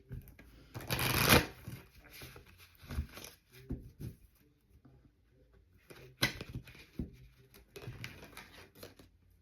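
Playing cards are shuffled by hand in two quick riffling bursts separated by a quieter stretch, with soft handling noises and faint background sounds in between.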